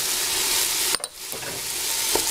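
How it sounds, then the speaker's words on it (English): Onions, garlic and seasoning sizzle and spit in hot oil in a pan, a steady frying hiss broken by a brief stirring scrape and a pause before the sizzle resumes. "So our oil's getting hot. Onions in, garlic in, seasoning in,"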